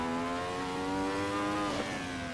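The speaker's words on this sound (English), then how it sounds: "My engine spluttering." A 1970s Grand Prix race car engine in Assetto Corsa at the Nürburgring GP circuit drones steadily and loudly, with slight irregular wavering and a brief stutter near the end, no talk over it.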